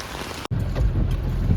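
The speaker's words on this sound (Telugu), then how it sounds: "వర్షం అయితే ఘోరంగా వస్తుంది." Heavy rain pours in Tirupati as a dense, steady roar of water, close and loud, with a brief dropout early on before the downpour continues unbroken.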